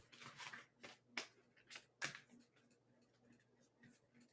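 Tarot cards being shuffled by hand, a series of soft, quick riffling and slapping bursts at an uneven rhythm, faint and close, with no talking.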